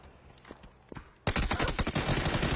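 Gunfire rings out in a PUBG esports match: after a quiet start with faint taps, a loud, rapid burst of automatic rifle fire breaks in at once and keeps hammering without pause.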